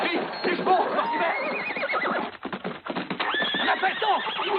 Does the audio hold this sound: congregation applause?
no